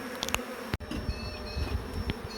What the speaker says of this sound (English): It's warmed up, and so we've got a lot of robber bees